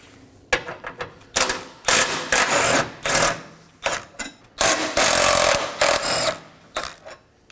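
A ratchet wrench works loose two 13mm bolts on the radiator support bars of a 2011 Dodge Durango 5.7L V8, with rapid, loud, repeated bursts of clicking and pauses between them.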